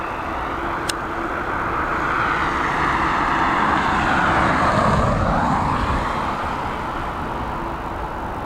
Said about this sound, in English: the next arrival coming in from Madrid. She's another Boeing 737, again operated by Ryanair